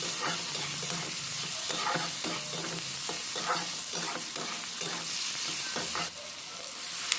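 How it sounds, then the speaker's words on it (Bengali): Whole cinnamon, cloves and cardamom sizzle and fry in a pan for a cauliflower and potato curry while a utensil stirs them, giving steady crackling with rhythmic scraping strokes and no voices. "এবার এর মধ্যে আমি দিয়ে দিচ্ছি দারচিনি লবঙ্গ এলাচ দিয়ে একসঙ্গে এইভাবে নাড়াচাড়া করে একটু মিক্স করে নিচ্ছি"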